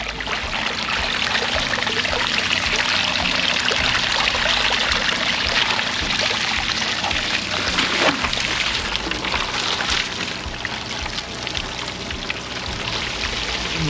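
Water from a newly dug well flows and splashes continuously at a steady, fairly loud level, like a strong stream pouring out, with no voices.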